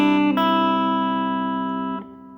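Guitar picking the opening bar of a song's intro: a few clean, sustained notes struck one after another, ringing together close and clear, then cut off near the end with no talking.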